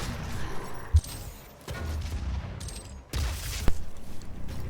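A charged Gauss Cannon fires in the Doom 2016 video game, with sharp heavy blasts and crashing impacts that repeat in bursts over dense, noisy combat sound.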